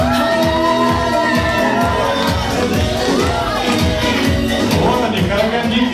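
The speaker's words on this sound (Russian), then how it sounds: "аплодируем, поехали." A banquet crowd claps rhythmically and cheers, steady and loud throughout, with whoops and shouting mixed into the dense noise.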